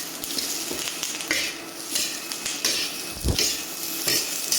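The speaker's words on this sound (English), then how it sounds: "put in the peppers. So I'll give these a good char." Mixed peppers char in a hot wok on an induction burner, a steady loud sizzle broken by metallic clanks and scraping as a utensil stirs and tosses them.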